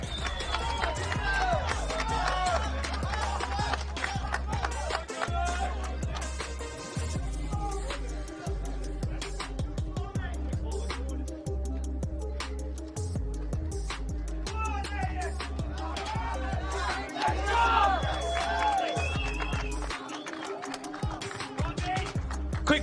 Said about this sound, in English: there's a big crowd here that's traveled to support Ireland